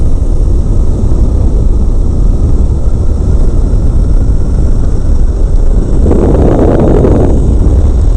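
Idling engine of a flexwing microlight aircraft in flight, a steady low droning rumble under heavy, constant wind rush, with a brief swell of louder noise near the end.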